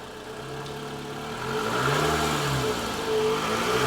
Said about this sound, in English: Now rev it.